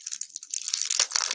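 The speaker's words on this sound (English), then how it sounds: "Going into the plastic bag." Crinkling of a plastic bag being opened to reach tea, a close, brief rustle and crackle lasting about a second and a half, with no talking over it.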